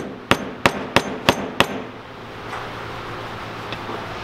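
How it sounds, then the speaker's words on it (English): Five sharp metallic hammer-like strikes in a quick, even rhythm from a Snap-on quarter-inch drive 7/16 socket driving a part into place on a cluttered workbench during MG gear assembly repair, followed by a quiet room. "quarter-inch drive 7/16 socket and we'll try to get him driven into place."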